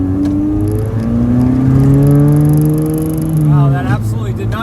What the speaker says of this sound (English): Gonna go give it a test drive.